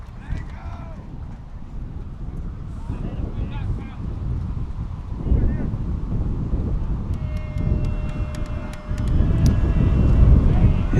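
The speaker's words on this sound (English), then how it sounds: "Heavy gust of wind as a breaking ball is popped up on the third base side" A heavy gust of wind buffets the microphone at an outdoor high school baseball game between New Canaan and Ridgefield, a steady low roaring rumble that swells louder near the end.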